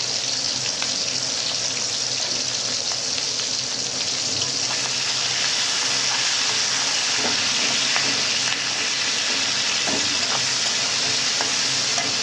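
Chopped tomato with a pinch of salt sizzles in a frying pan while a spoon stirs it, making a constant close frying hiss broken by scattered scrapes and taps.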